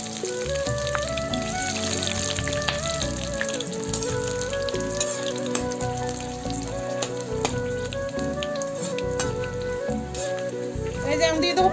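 Bay leaf and dried red chili sizzling in hot oil for Bengali khichuri, a steady crackling fry heard close up beneath continuous background music.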